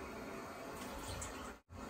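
Steady running water from a tap for a quick rinse, heard close and fairly quiet, flowing evenly with a brief cut near the end before it resumes.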